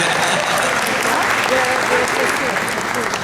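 A conference audience at ICOT18 applauds after a presentation, a dense, steady round of clapping at close range throughout.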